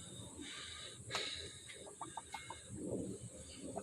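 Chicks cluck around nearby, a quiet string of short soft clucks in quick succession over faint background noise.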